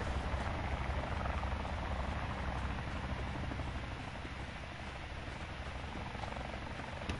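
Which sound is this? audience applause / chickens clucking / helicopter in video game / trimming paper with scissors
helicopter in video game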